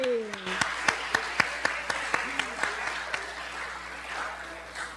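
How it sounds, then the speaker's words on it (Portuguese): A small podcast audience claps for Val in a slow, spaced run of a dozen distinct hand claps, fairly close and under lingering voices that trail off near the end. "Palmas pra Val, gente!"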